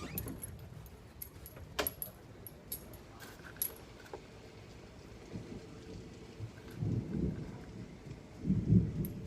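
Thunderstorm with steady rain coming down, soft rain hiss throughout with a few sharp close cracks and low rolling thunder rumbles swelling in the last few seconds, no talk.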